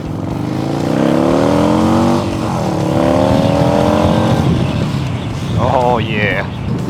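An old motorcycle, rescued from the junkyard and with a seized shifter, revs hard and close in rising and falling sweeps. The engine roars steadily throughout, and a higher whining tone comes in near the end.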